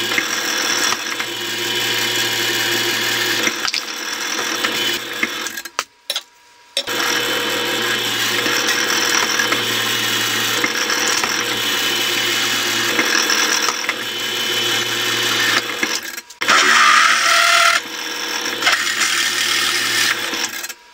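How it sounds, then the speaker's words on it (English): A power drill runs a 1/4 inch pilot bit steadily through metal, loud and close, with a high whine and a couple of brief pauses before the motor resumes. "I've got a 1/4 inch pilot drill that we're going to run down through it"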